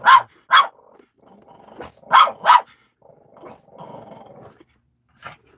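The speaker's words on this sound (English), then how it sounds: "Who the hell are you barking at?" A dog barks sharply in close pairs, with low growling rumbling between the barks in an otherwise quiet tiny house on wheels.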